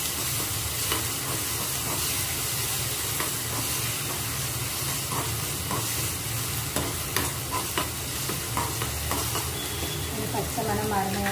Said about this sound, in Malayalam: പച്ചമണം മാറുന്ന വരെ ഇളക്കി കൊടുക്കണം.